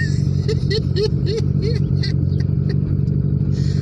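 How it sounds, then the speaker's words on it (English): A Fiat Palio R runs steadily after starting, its engine a loud, constant low drone with a rhythmic clatter, while a person talks over it throughout. "I didn't think this car was gonna start up, guys."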